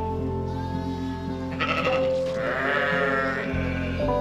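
Sheep and lambs bleating on a farm in spring, several overlapping calls close by over a constant low background hum.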